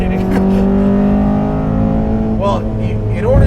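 A 2014 Honda Civic Si, all-motor with 260 wheel horsepower, revs steadily with a sustained droning engine note heard from inside the car while people talk over it.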